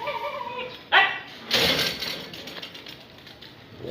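A pet dog gives a couple of short barks and yelps followed by softer whimpering, fairly close in a quiet morning setting.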